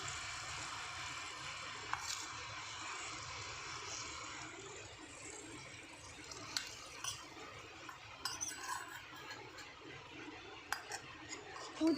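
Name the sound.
pouring ghee-fried raisins into wheat payasam and mixing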